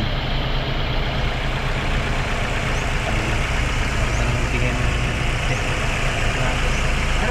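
A Ford Escape with a 2.3 engine idles after sitting unused for two years, a steady loud rumbling drone that holds even throughout, close by and with no talking.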